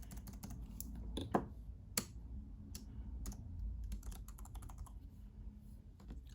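Typing on a JellyComb Bluetooth keyboard, quick irregular key clicks with a few louder taps, close and quiet, with no talking.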